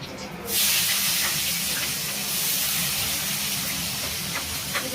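Chopped onion dropped into hot oil with a bay leaf, breaking into a loud, steady sizzling hiss that starts abruptly and carries on close for several seconds.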